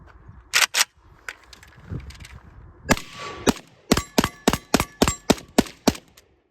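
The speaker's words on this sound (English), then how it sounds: "you get a click, nothing in there, throw your mag, there's lots of ways to do it, and then you have to charge it again" An AK rifle being handled: sharp metallic clicks and clanks scattered at first, then a quick, regular series of crisp mechanical snaps close by, consistent with dry-firing and reloading a magazine.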